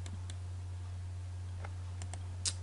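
A computer mouse clicks several times in AutoCAD, with sparse, crisp, close clicks spaced irregularly over a steady low hum, no voices.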